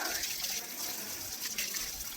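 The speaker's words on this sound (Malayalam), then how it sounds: "അടുത്ത വീട്ടിൽ നിന്ന് വെള്ളം എടുത്ത് ചെടി നനയ്ക്കുന്ന ചേട്ടനെ നിങ്ങൾക്ക് ഇവിടെ കാണാനായിട്ട് സാധിക്കും" Water running from a hose onto garden plants, a steady broadband splashing rush close by, continuous and fairly even throughout with no speech.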